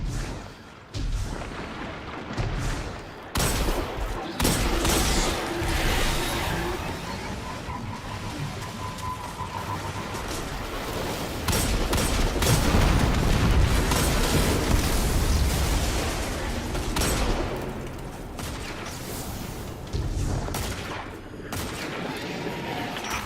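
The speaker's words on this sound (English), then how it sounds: "I heard those explosions from here." Explosions and gunfire in the video game Destiny 2 form a loud, continuous barrage of booms, bursts and rattling shots that swells in the middle and is punctuated by brief pauses.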